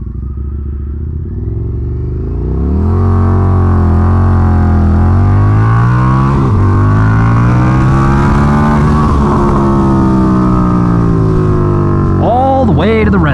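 A street motorcycle is ridden hard on a twisty road, its engine wailing up through the revs to the red line in a loud, sustained climb, with a brief shift and rev near the end.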